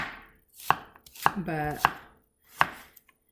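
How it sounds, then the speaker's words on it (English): An onion is chopped on a cutting board for enchiladas rojas: five or six sharp, close knife strikes at an uneven pace, with no voices. "And I'm just chopping it."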